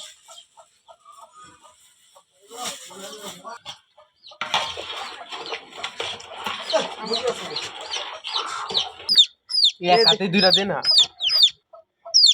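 Hens and chicks clucking and peeping close by at a rural Bangladeshi home, starting sparse and then building into busy, loud bursts of clucks and high chirps, with people talking in between.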